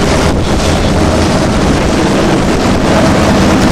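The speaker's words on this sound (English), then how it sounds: "We've got the engine running, actually charging the battery" A sailing catamaran's engine runs at sea during a 1994 Atlantic crossing, charging the battery; a steady low drone sits beneath loud, constant wind buffeting and water rush, with no talk.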